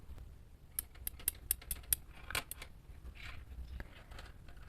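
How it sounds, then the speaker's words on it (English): Scissors snipping yarn during a crochet plushie project, a quick series of about eight crisp, close clicks followed by a few softer rustles, with no talk. "Now you can cut the yarn."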